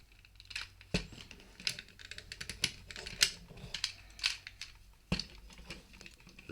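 A plastic Transformers Prime First Edition Bulkhead figure has a part folded in, giving a series of small, quiet clicks and taps in an irregular rhythm, with a couple of sharper snaps among them.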